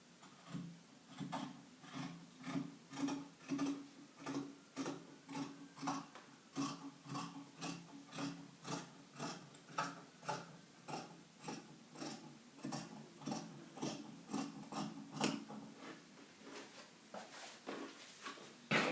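Scissors cut a blouse yoke from fabric in a steady rhythm of quiet repeated snips, each with a soft crunch of cloth, close and faint with no voices, slowing briefly just before the end.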